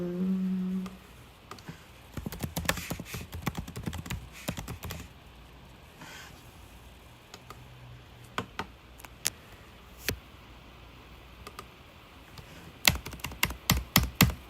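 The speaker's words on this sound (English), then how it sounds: "I'm typing something on my computer" Someone types on a computer keyboard indoors, with quick clusters of close, crisp keystrokes separated by quiet pauses and a dense burst at the end; no one speaks.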